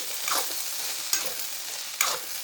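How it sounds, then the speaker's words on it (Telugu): Spicy mixed vegetables fry over a low flame with a steady soft sizzle, while a spoon stirs through them in two or three distinct scraping strokes, close and alone with no talking. "చిన్న మంట పెట్టేసి ఇలా వేపుకోవాలండి. మధ్య మధ్యలో ఇలా మిక్స్ చేసుకోవాలండి అడుగంటకుండా."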